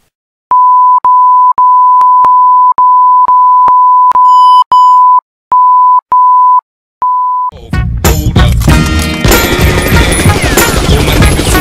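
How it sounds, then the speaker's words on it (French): A string of loud, pure censorship bleeps of varying length, repeated at an uneven pace over silence and replacing insults in a Minecraft Skyclash game. A burst of loud, noisy game audio follows. "Chaque insulte sera donc remplacée par un bip pour votre confort."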